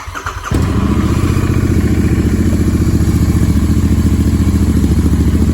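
A Royal Enfield Interceptor 650 motorcycle engine, exhaust baffles fitted, fires up after a brief clatter and settles into a loud, steady, throbbing idle with a deep, muffled exhaust note, close by.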